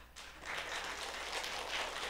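A church congregation breaks into applause, a dense, steady wash of many hands clapping at moderate distance, sustained throughout without any talking.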